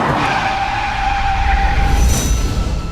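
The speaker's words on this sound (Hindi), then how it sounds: "सारा ये गाड़ी मुड़ रही है यार" A car swinging through a sharp turn, its tires skidding in one long screech under a steady engine roar, loud and close.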